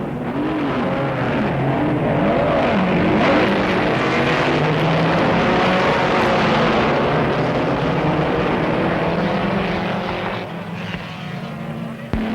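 Vintage racing car engines at the 1959 Bathurst 100 Easter race on Mount Panorama, loud and close, starting and revving together in a continuous rising and falling roar that eases slightly at the end.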